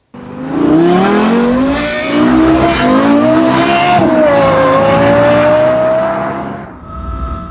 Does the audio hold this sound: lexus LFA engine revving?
yes